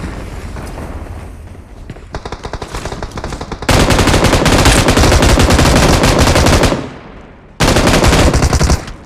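An M249 light machine gun fires in the mobile battle royale game BGMI, with long, loud, sustained automatic bursts broken by brief pauses and a short lull before another burst.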